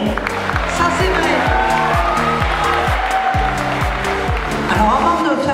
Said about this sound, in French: Je crois que vous pouvez déjà tous vous applaudir mutuellement.